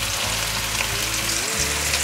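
Tofu skin rolls fry in oil in a pan, giving a loud, dense, continuous sizzle close by with a low hum underneath and no voices.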